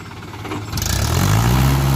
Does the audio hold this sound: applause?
no